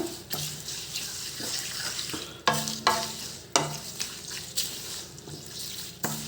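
Coconut oil simmers in a pan with fenugreek seeds and leaves, giving a steady bubbling hiss broken by a few sharp clanks of a spoon stirring against the vessel, close and alone with no voices.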